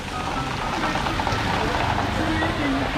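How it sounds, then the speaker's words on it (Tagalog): Steady rain patters on a surface, a dense continuous hiss with faint voices murmuring underneath throughout. "Lakas ng ulan."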